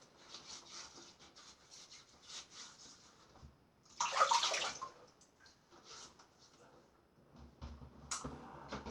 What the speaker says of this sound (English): I'm going to dip my Tabac soap into my water.